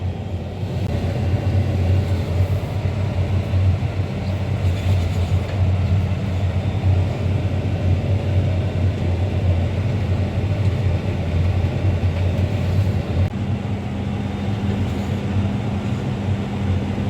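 A farm vehicle on a dairy farm hauling a liquid manure pump, with a steady loud engine drone and low rumble running continuously throughout, no talk.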